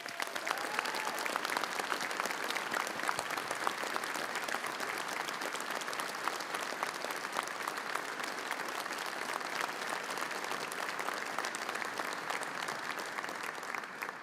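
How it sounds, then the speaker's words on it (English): At a county sports hall of fame induction ceremony, the audience gives the inductees a long, even round of applause, dense clapping that holds steady from start to finish. "Let's give them another round of applause."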